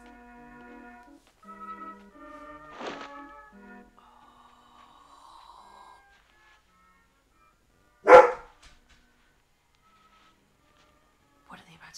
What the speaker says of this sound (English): It's my dog barking at me.